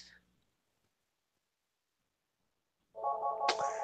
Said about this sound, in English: Look, the phone ringing already.